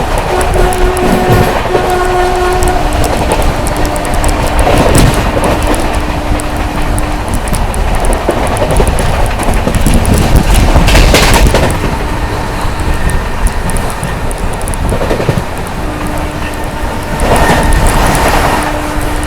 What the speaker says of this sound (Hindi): चलिए स्किप दिखाते हैं सवाई माधोपुर जंक्शन का।